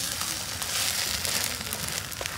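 Eggs frying as an omelette in a pan give a steady, close crackling hiss with faint popping throughout.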